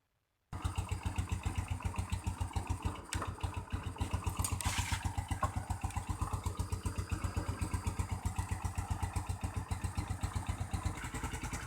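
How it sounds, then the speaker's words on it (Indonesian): An old motorcycle engine, long unused, idles after being started, a steady close putt-putt rhythm running throughout with a brief louder rev midway. "Untuk sementara biarkan motor yang sudah lama mati ini mencoba untuk"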